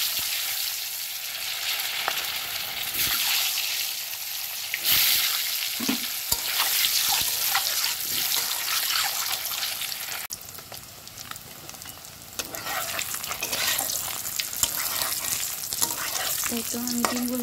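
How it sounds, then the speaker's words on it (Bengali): Duck eggs fry in mustard oil seasoned with turmeric, a steady loud sizzle and crackle punctuated by scraping stirs of a spatula in the pan, continuing throughout with no talking. "এই তো আমি ডিমগুলো সুন্দর করে ভেজে নিচ্ছি।"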